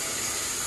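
Steady, broadband hiss of a shower running at a hot springs camp along the Pacific Crest Trail near Drakesbad, a continuous close spray filling the whole moment with no voices.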